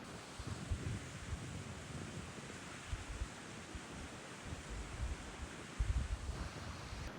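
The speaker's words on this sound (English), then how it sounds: "Creek flowing to your right." Creek flowing steadily beside a rainy mountain campsite, a continuous broadband rush heard up close with gusty low rumble and no voices.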